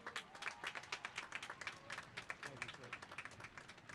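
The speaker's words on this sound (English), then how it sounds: "Let's give him a Cobra round of applause." Audience applause at a 2021 high school graduation ceremony, a steady burst of many hands clapping close and loud across the hall, with cheering voices mixed in throughout.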